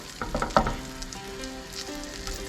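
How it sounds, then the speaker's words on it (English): Pieces of fish frying in a pan that is still heating up, a steady soft sizzle with a few louder crackles and pops early on, continuing alone without talk. "so that'll start sizzling away in a minute"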